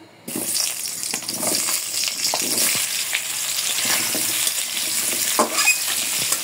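Potatoes fry in hot oil in a wok, giving a steady close sizzle with scattered crackles and occasional stirring scrapes, no voices.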